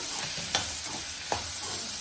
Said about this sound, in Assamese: ধুনীয়াকৈ এনেকৈ ভাজি ল'ম মানে পূৰা চব হাই ফ্লেমতে হৈ আছে